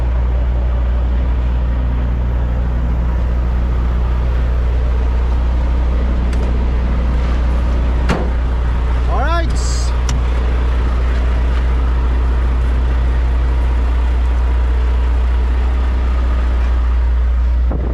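A truck idles at a park, its low engine rumble droning steadily and close throughout, with a brief clatter and a short spoken word midway.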